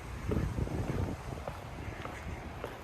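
Wind blowing outdoors on a cool day by a road rumbles and buffets the microphone, heaviest in the first second and then settling into a steady low gusting roar.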